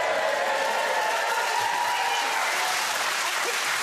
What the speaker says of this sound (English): They're clapping you right now.